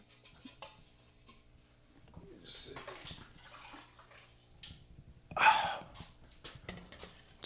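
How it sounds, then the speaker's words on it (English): Water is poured to top off a medaka fish container, heard as a short close splash and trickle amid soft handling noises, with a person talking intermittently. "basically what I do is I just add water when needed, when things are evaporating"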